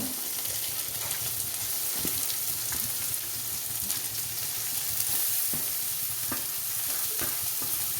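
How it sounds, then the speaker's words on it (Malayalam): Two finely chopped onions sauté in a pan with ginger and garlic under a continuous, even sizzle, with occasional stirring taps and scrapes close by throughout. Nobody speaks. "നമ്മൾ സവോള ഇട്ട് കൊടുക്കുകയാണ് ചെറുതാക്കി അരിഞ്ഞെടുത്ത ഒരു രണ്ട് സവോളയുണ്ട്"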